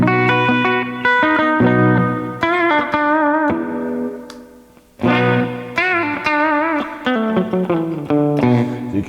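A Kramer Jersey Star electric guitar played through its humbucker pickup rings out in distorted chords and single notes, with sustained tones, bends and brief pauses, heard alone and up close.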